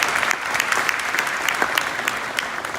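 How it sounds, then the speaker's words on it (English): Audience at a civic Italian Heritage Month celebration in Vaughan applauds the technical crew, a steady, full round of many hands clapping with crisp individual claps, moderately close and without voices. "We can clap for them too."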